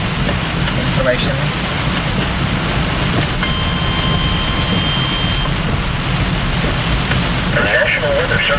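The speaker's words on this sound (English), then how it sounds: "Lightning bolts within rain. And the thunder is like very deep and very loud." Steady heavy rain hammering a car during a 2007 Florida thunderstorm, with deep rumbling thunder rolling underneath and a couple of brief louder cracks, continuous and close.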